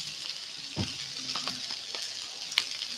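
Light oil sizzling in a pan while chow mein is being cooked with canned chicken, a soft steady hiss with a few sharper crackles and pops along the way.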